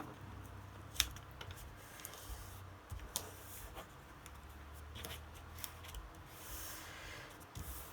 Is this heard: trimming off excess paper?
yes